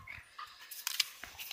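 Small dogs panting close by in short, quick breathy bursts, with light whimpers and scuffling at a moderate level.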